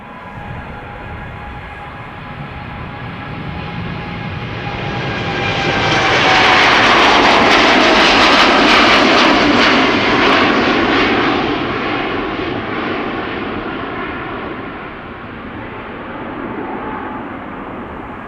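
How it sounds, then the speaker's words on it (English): An American Airlines jet departs Amsterdam Schiphol, its loud engine roar swelling from a distant whine to a peak around the middle before slowly fading as it climbs away, with no voices. "This is American Airlines Flight 203 going to Philadelphia in Pennsylvania."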